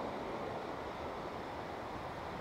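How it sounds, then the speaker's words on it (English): Ocean waves breaking on a shore along a seascape coast, a soft, steady far-off surf wash with wind noise and no speech. "Got a good wave coming in right now."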